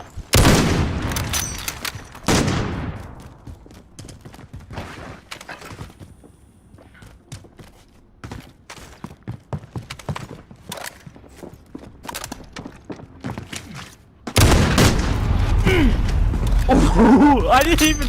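Gunfire crackles in a Call of Duty Modern Warfare 1v1 bolt-action sniper match, with sharp bursts at the start and a dense loud stretch near the end. Scattered clicks and game noise fill the middle, and players talk over it.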